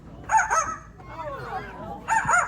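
A small green parrot imitates a dog's bark, with two loud, harsh, yappy bursts framing a softer warbling call in between, close to the listener.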